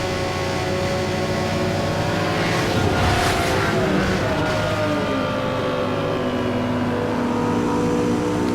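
Racing cars in Need for Speed Hot Pursuit Remastered on PS5, including a Lamborghini Countach chasing a police car, roar loudly at speed, with engine tones rising and falling and a whooshing pass near the middle.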